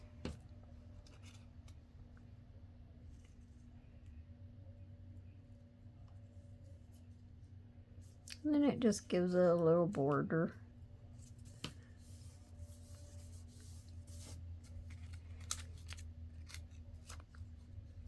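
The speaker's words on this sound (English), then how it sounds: "I would cut the coffee dyed paper just a little bit bigger" Scissors cutting coffee-dyed paper, a close, crisp burst of rapid snipping lasting about two seconds in an otherwise quiet room, with a brief spoken remark nearby.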